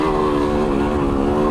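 A Beta 200RR two-stroke dirt bike climbing a loose switchback trail, its engine droning loud and steady with a buzzing, harmonic-rich tone.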